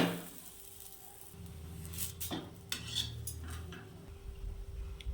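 Bhujia paratha roasting on a griddle, with close metallic clinks and scrapes of a utensil against the pan and a faint sizzle underneath.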